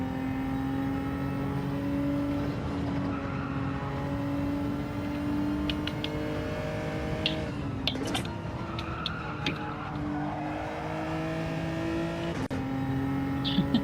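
A race car in Gran Turismo 7 drones continuously with a steady engine note that rises and falls through gear changes, brief clicks and ticks scattered over it, and no speech.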